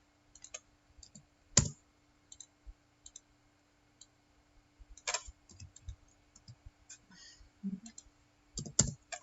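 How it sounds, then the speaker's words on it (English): Sparse keyboard clicks on a PC keyboard tap out at irregular intervals over a quiet hum, with a few louder key strikes standing out. "Getting used to a PC keyboard."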